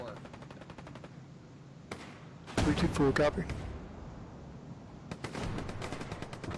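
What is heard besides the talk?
gunfire in a video game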